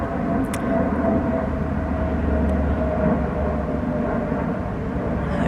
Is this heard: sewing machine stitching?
no